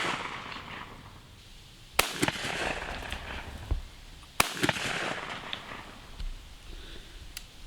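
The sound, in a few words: gunshot on a farm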